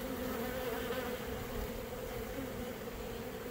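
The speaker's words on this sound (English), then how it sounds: "There's one or two bees." Honeybees buzzing around a swarm during a swarm catch, a dense, steady, close hum that holds without a break and has no talking over it.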